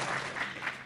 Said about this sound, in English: cut off her applause, I'm talking.